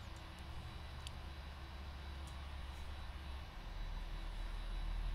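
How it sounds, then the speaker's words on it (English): Boeing 747 engine spooling up during start-up in a PMDG flight simulator: a steady low jet rumble that builds slightly louder toward the end, with a few faint clicks near the start. "Starting engine 1. And then we'll start the final engine here."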